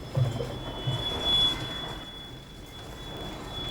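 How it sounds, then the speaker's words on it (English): A Rovos Rail train in South Africa rumbles along while decelerating, a thin high squeal of steel wheels on track ringing steadily above the low, continuous roll of the cars. "With deceleration comes the sound of steel against steel. Screeching wheels straining track."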